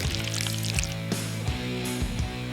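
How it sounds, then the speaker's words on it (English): Yellow pancake batter pours into a mold set on a pan in a few soft, low glugs and trickles, faint and close, with no voices. "Pour in yellow batter"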